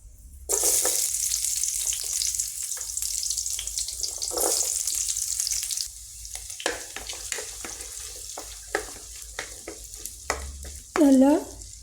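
Small shallots sauté in hot oil in a pan, a loud steady sizzle with stirring scrapes and clatter, close up, fading slightly toward the end.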